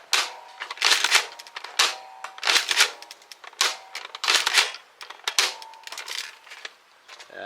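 Nerf Elite 2.0 Ranger PD-5 blaster firing foam darts in a large indoor space, a rapid series of sharp mechanical clacks and pops in clustered bursts, fairly close and loud, with no talking.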